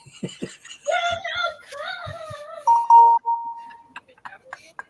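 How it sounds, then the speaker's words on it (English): A bell rings during a lively indoor gathering, giving a short sustained tone in the middle followed by a few quick strikes, mixed with laughter and chatter from people nearby. "We just had a bell ring."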